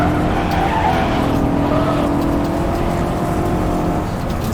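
Simulated BMW M5 in rFactor2 sliding through a drift, its engine droning loudly while tires squeal in a sustained whine over the whole stretch.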